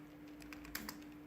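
A few quick, light keystrokes tap on a computer keyboard, faint and close, with a low steady hum behind them.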